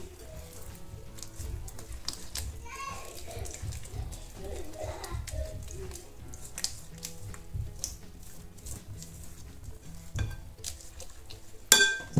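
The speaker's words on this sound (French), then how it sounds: "je vais également rajouter le jus d'orange, je mélange" A spoon stirs orange juice into biscuit batter in a bowl, giving soft repeated scraping and mixing sounds with occasional knocks against the bowl's sides.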